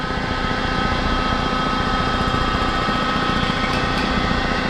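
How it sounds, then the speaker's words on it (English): Steady high-pitched whine and hum from a resurfacing machine's spinning spindle over an LS cylinder head, continuous and even throughout, close and fairly loud with no talking. "with the spindle on, I'll just lower the head really slowly with the hand wheel."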